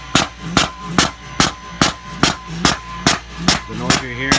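A Power Tank CO2 pump drawing CO2 out of a siphon tube tank as it fills a tank gives off a steady run of loud, evenly spaced thumping pulses, roughly two per second, over a constant mechanical hum.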